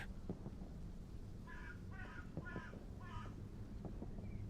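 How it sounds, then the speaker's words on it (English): Crows cawing in a video game, several harsh caws in a short sequence of about four calls, set against a low rumbling ambient background of wind or thunder with faint rain-like texture. "We'll just listen to the cawing of the birds in the background for a moment."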